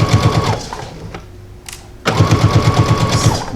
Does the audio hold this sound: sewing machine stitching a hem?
yes